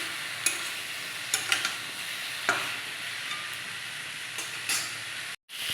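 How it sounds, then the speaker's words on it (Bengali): Green chilli and ginger paste sautéed in a pan, with steady close sizzling and a few sharp spoon scrapes and clinks through it, cut briefly near the end. "এবার এই কাঁচা লঙ্কা ও আদা পেস্ট করে রেখেছিলাম দিয়ে দেব। দিয়ে এটাকে একটু কষিয়ে নেব।"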